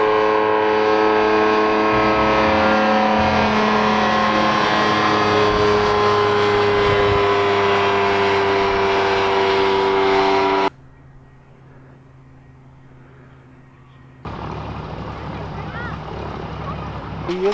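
A small airplane's propeller engine drones steadily at close range on a backcountry airstrip at Sullivan Lake, with a strong constant hum that suddenly drops away partway through, then returns at a lower level.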